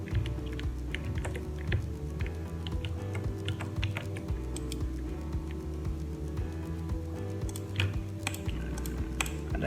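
Computer keyboard typing with Ctrl shortcut presses, a steady run of close, crisp key clicks with a few sharper taps, alone with no talk.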